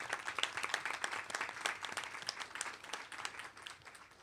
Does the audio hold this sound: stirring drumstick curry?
no